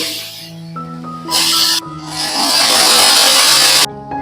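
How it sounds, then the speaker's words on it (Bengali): Soaked chana dal with a pinch of turmeric drops into hot oil, letting out a sudden loud sizzling hiss that swells and holds for a few seconds over soft background music. "আমি এখন ছোলার ডালটাকে ভেজে নেব।"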